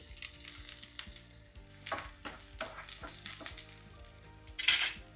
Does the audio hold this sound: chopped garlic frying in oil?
yes